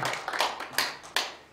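A few scattered claps ring out in a room for a missionary at a church gathering, four or five distinct sharp slaps with short decay and no crowd roar.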